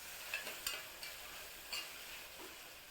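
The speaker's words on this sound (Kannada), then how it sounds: "ಚೆನ್ನಾಗಿ ಮಿಕ್ಸ್ ಮಾಡಿ" Food being stirred and mixed in a pan after lemon is added, with soft scraping strokes and several sharp clinks of a utensil against the pan over a faint sizzle, close and quiet.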